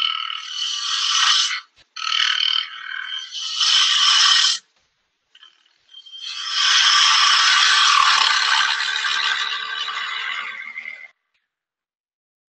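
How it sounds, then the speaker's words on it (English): Wood-turning gouge riding the bevel on a spindle blank at the lathe, a chess set piece, giving loud, steady rasping cuts in several bursts of one to three seconds, then one long continuous pass, with no talking. "you can hear riding the bevel, right? That's what that sound is."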